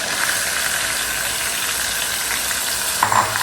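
Chopped onion frying in a hot pan for a beef and yam fry, giving a steady, dense sizzle that stays even throughout with a slight flare near the end.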